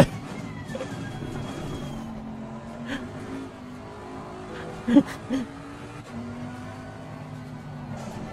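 A race car in the sim-racing game Assetto Corsa Competizione, driven on a direct-drive wheel, gives a steady engine drone with shifting pitch, moderately loud throughout, with a few brief knocks partway through.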